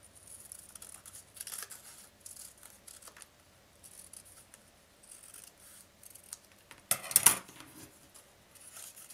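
Scissors snipping fabric or interfacing for a homemade Easter basket, quiet scattered cuts that end in one louder, sharper snip near the end, with no voices.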